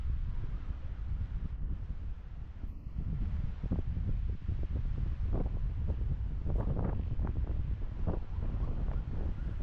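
Gusty outdoor wind at a hillside campsite in Malico, a continuous heavy rumble battering the microphone for several seconds, with scattered brief knocks and flutters on top and no voices.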